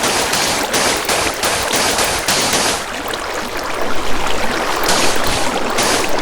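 Water released in Minecraft rushes and flows in a loud, continuous broadband wash that holds steady throughout.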